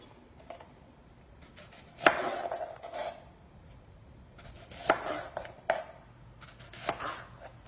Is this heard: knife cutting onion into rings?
yes